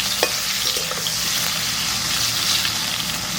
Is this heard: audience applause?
no